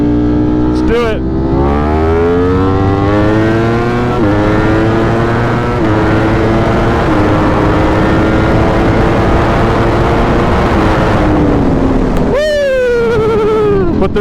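A Ducati motorcycle accelerates hard in second gear down a straightaway, its engine note climbing steadily in pitch before it shifts and winds up again. The bike is loud and close, with a rider's voice heard over it.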